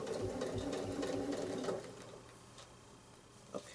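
Sewing machine stitching along fabric in quilting work, a close, loud rapid mechanical whirr for under two seconds that then stops, leaving quiet room tone with a faint click.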